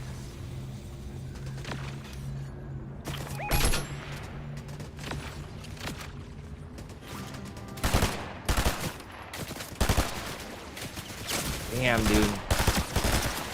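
Bursts of gunfire crackle through a shooter video game battle, scattered single shots and rapid volleys spread across the stretch, with players talking and exclaiming over the shooting.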